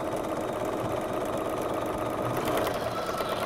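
A sewing machine runs a continuous straight seam on powwow regalia, a steady close mechanical whir and rapid needle chatter without pause or talk.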